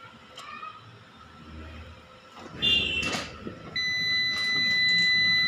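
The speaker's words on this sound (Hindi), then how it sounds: "तो जैसे ये बीप करता है तो आप उसको छोड़ दीजिए" A Microtek 3 kVA 72 V Maxx series online UPS with a burnt MOSFET gives steady electronic beeps as it is switched on, sharp tones sounding over faint handling clicks and room noise.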